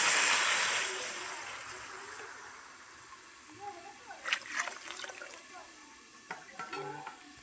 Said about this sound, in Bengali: এই জল দিয়ে দিচ্ছি